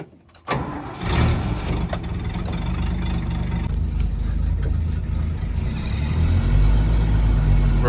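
A 1973 Toyota Land Cruiser FJ40 engine cranks and fires up, then settles into a loud, rough, steady idle close by, with the rumble swelling slightly toward the end.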